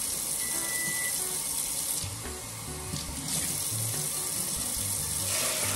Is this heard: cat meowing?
no